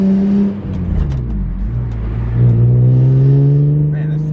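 A manual V10 BMW M5 E60 with over 170,000 miles revs loudly and pulls away, its deep engine note rising steadily through the gear, close and dominant throughout.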